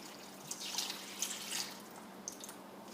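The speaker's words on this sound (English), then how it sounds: "So I'm going to go ahead and pour the water in." Water is poured from a bottle onto a sand pile, giving a soft, quiet trickle with a few faint drips and splashes over low background hiss and no speech.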